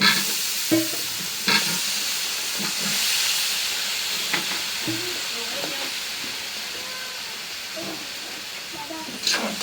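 Continuous sizzling of eggplant stir-frying in a pan, with occasional clinks and scrapes of a spatula and faint voices in the background.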